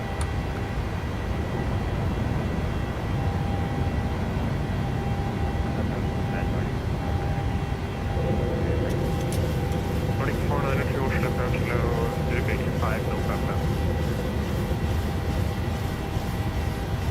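Boeing 737-800 climbing after takeoff in Microsoft Flight Simulator, a steady loud broadband engine roar throughout, with a voice talking over it.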